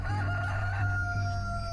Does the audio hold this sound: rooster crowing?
yes